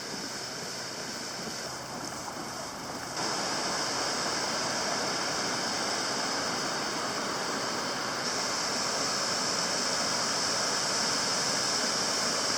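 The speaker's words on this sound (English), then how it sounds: "I'm up at the top of Mist Falls." A waterfall at Mist Falls on Baranof Island, Alaska roars in a dense, unbroken rush of white noise. It is loud and steady throughout, growing slightly fuller partway through, with no voices.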